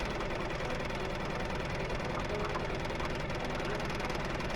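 A Suzuki 6 hp four-stroke outboard drives a flat-bottom boat with an even, continuous putter, a steady close mechanical chug at constant throttle with no voices.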